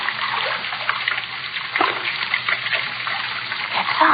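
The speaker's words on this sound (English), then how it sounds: "That sound. Running water." Water runs and splashes steadily, a continuous trickling and sloshing that sounds close and somewhat muffled, with no voices.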